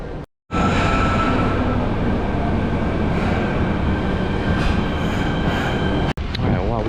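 A subway train in Fukuoka, Japan rumbles steadily along the track, loud and close from inside the car, with a continuous roar, faint clatter and a brief cut-out near the end.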